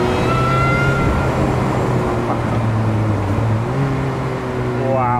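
An Ariel Nomad's engine drones loudly while driving, a steady buzzing tone that holds, dips briefly and then climbs higher as revs change, heard from inside the open car.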